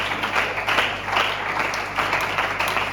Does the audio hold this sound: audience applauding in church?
yes